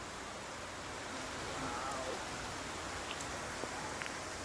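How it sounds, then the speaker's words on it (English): Heavy rain pours down as a constant broadband hiss, even and unbroken, with faint splashes over the top. "Look out at the rain."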